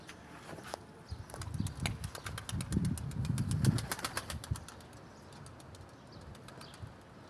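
Pigeons flying in, their wings flapping in rapid bursts of clattering beats that swell loudest midway and then thin out into lighter, scattered flutters, with no talking.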